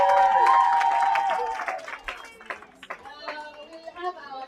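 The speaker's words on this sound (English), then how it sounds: "Can you clap for them?" Audience clapping at a graduation ceremony for the winners arrives as scattered, uneven claps under voices and tonal sounds, thinning out toward the end.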